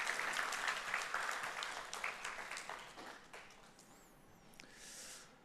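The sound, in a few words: congregation applauding the choir in church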